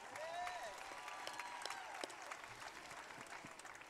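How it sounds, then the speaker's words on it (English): Crowd applause and cheering at an outdoor victory parade and celebration in Omaha, Nebraska, scattered clapping and a few whistles at moderate distance, fading over a few seconds. "give a round of applause to the members of the parade"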